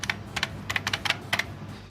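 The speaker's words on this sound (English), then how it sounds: "Especially considering like I had an old IBM Model M," Quick bursts of typing on an old IBM Model M mechanical keyboard, crisp clacking keystrokes in uneven clusters close to the listener with nothing else heard.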